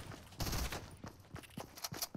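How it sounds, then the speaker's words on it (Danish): Burst rifle gunfire in the video game Fortnite, a sharp loud volley of close shots followed by several quieter scattered pops and thuds, with no talking. "Selvfølgelig rammer han alle tre skud med sin burst"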